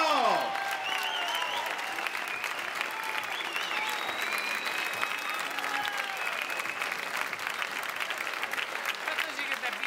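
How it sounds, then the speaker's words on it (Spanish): Sustained audience applause fills a theatre during a village cultural-week play, a dense steady clapping from a crowd that continues throughout without a break. "¡Un aplauso!"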